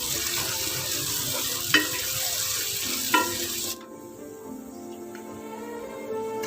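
Ginger and garlic sautéing with onions in a pan for a Kerala-style mutton curry: a dense, close sizzle with a couple of sharp utensil knocks, then the frying drops to a quieter hiss partway through.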